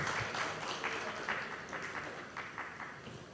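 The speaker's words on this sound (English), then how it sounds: "One more time, big applause." A summit audience applauds, with clapping spread through a large room and heard at some distance, fading slightly over a few seconds.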